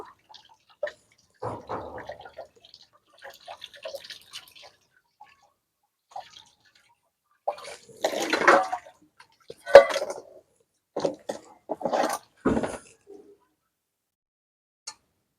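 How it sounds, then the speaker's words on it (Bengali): A large palm fruit washed by hand in water, giving sparse close splashes and drips in scattered bursts separated by near silence. "এখন আমি তালটা পরিষ্কার করে ধুয়ে নিচ্ছি"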